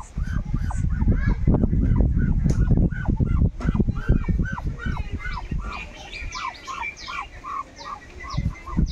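A flock of Chinese geese kept as domestic fowl honk repeatedly, with loud overlapping calls close by that thin out into a steadier series of individual honks.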